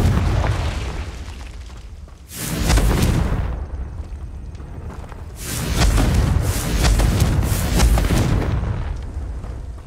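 Confringo blasting spell explosions in Hogwarts Legacy: two loud, close booming blasts, each a broad roaring burst lasting over a second with rumbling decay, separated by a brief quieter gap.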